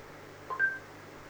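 An Android car radio's voice assistant places a call and plays two short dialing beeps in quick succession, the second one higher in pitch, over a faint steady background hum.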